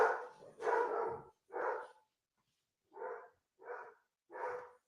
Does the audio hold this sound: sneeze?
no